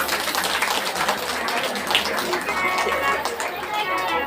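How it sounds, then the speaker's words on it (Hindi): A large seated audience at a Shrimad Bhagavat Katha gathering in Andheri East, Mumbai claps together in a dense, steady wash of applause that carries on throughout, with a faint voice mixed in. "इतने लोग बैठे हैं फिर भी शांत हो, तो अपने लिए एक बार तालियां बजा लो।"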